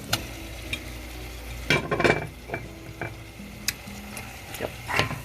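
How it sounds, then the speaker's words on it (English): Meat sizzles and fries in a pot with paprika for Hungarian pork stew, a steady low hiss with repeated scraping stirs and light metal clinks close up. "Now you add the meat in."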